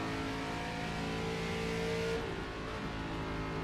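A race car engine revs hard under throttle in a General Tyre 150 race at Phoenix, a loud rising tonal whine that holds for about two seconds, then drops off abruptly as the throttle lifts.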